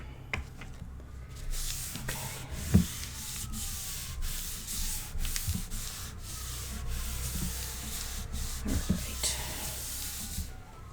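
Burnishing an image onto a page of a Stamperia Lady Vagabond mini album, a continuous soft rubbing and scraping hiss with light taps, close and steady throughout.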